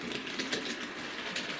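A model train runs round a left hand point on a set track, giving a steady, close whirring rattle with light rhythmic clicks from the wheels throughout.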